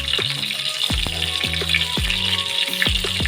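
Red chillies dropped into hot butter for a dal tadka sizzle loudly and close up, a steady crackling fry with a few sharper pops and spits throughout, no voices.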